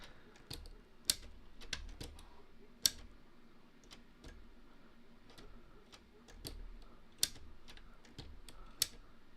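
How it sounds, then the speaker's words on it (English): Sharp clicks from a handheld gadget with 3D-printed discs, irregular single snaps and small clusters scattered over a quiet background, close and distinct. "My family was probably losing their minds hearing all this clicking and stuff"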